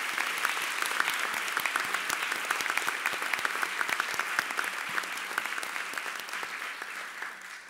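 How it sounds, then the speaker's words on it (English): An audience at a pharmacy school pinning ceremony gives sustained, dense applause with rapid clapping throughout, tapering slightly at the end. "Please join me in giving them a big round of applause."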